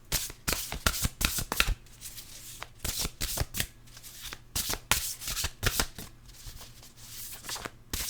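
A deck of animal-themed cards being shuffled by hand, with repeated riffling bursts and sharp flicks in an irregular rhythm, close and moderately quiet.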